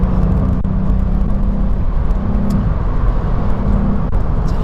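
Volkswagen Up GTI driving on a rough UK road in fourth gear, with a steady low engine drone and road rumble heard from inside the cabin, loud and continuous.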